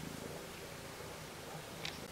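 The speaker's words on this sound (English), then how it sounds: "Hard to do work with a cat around." A domestic cat purring close by, a steady low rumbling purr that continues evenly throughout, soft and alone without talk.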